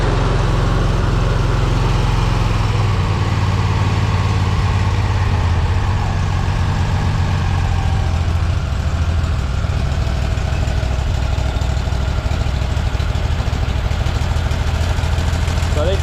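A Walker MTGHS engine runs at a steady low idle on its first startup after an EFI-to-carburetor conversion, with a dirty carburetor and the choke not yet connected. The rumble is continuous and close.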